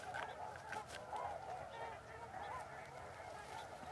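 Swans honking beside a river, a faint distant chorus of nasal calls repeating over steady outdoor background noise.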